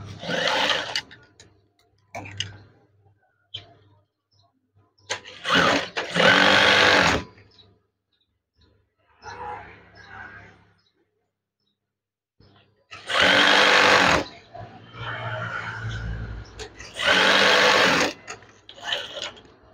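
A sewing machine stitches curtain fabric in several loud, whirring bursts separated by pauses, with quieter handling noises between runs.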